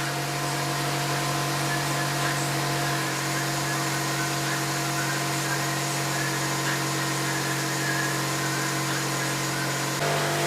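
Air suspension bags on an 8th-gen FA5 Honda Civic Si filling with air, a steady unbroken hiss and compressor hum that holds at the same level throughout.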